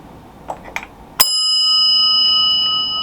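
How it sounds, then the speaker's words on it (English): A single sharp strike of a handmade shop bell rings out loud and piercing, its bright metallic tone sustaining steadily after a couple of faint taps. "made this particularly piercing bell"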